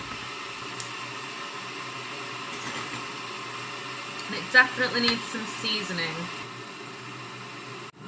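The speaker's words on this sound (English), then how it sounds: "Please excuse the sound of my kettle boiling" A kettle boils with a steady rushing hiss under a person speaking close by, with a few brief clatters partway through.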